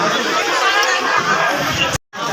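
A packed crowd pushing and jostling aboard a reserved coach of the Gomti Express train in India, heard as loud, dense babble and shuffling close by, cutting out briefly near the end.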